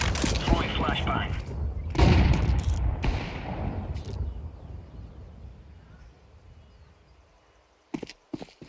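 A flashbang grenade goes off in Counter-Strike 2: a sharp burst followed by a ringing, fading wash of noise, with scattered gunshot-like clicks and thuds near the end.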